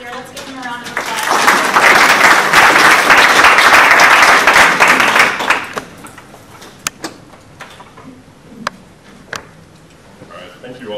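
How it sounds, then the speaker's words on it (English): Audience applause at an indoor real-estate builder presentation, a loud sustained burst of clapping for about five seconds that fades into scattered claps and quiet room noise. "Let's give him a round of applause."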